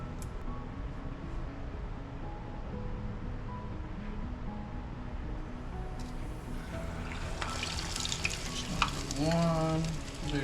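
Trout fillets fry steadily in hot oil, a continuous close sizzle and crackle that brightens and swells toward the end as more fillets go in, with a few clinks and stirring scrapes.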